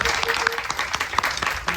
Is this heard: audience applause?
yes